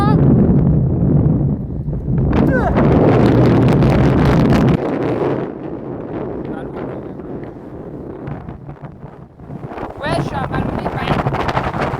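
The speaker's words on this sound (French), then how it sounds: "Il y a du vent, ouais, il y a du vent." Heavy wind at the Dunkirk seaside roars into the microphone in loud, rumbling gusts, with a person speaking briefly underneath.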